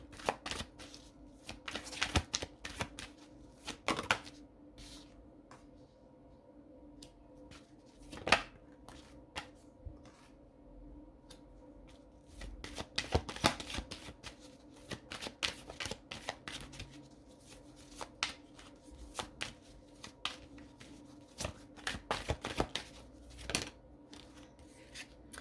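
A deck of tarot cards is shuffled by hand in repeated riffling bursts and softer sliding rubs, close and fairly quiet, with no talking over a faint steady hum.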